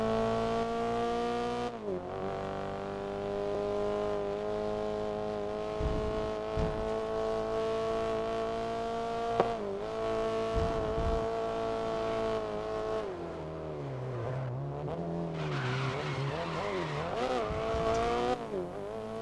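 A race car engine in the racing game GRID drones steadily at high revs, its pitch rising and dipping with gear changes, loud and continuous with brief tire squeals.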